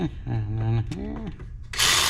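Ratchet wrench clicks briefly while tightening a part on a Ford 6.7L Powerstroke diesel engine, a short burst of ratcheting heard close up after a voice and some rubbing handling noise.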